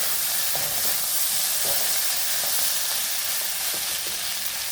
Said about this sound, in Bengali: আর একটু হবে ভাজা